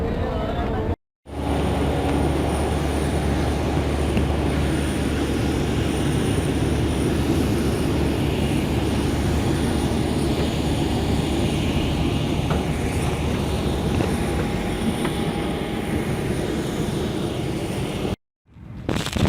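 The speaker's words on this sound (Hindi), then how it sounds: "इस वक्त एयरपोर्ट के रनवे पर हम बस में जा रहे हैं जहाज़ में बैठने के लिए।" Airport runway ride aboard a bus heading to a plane, filled with a loud, continuous low rumble and engine roar that holds steady for the whole stretch, broken only by two brief dropouts.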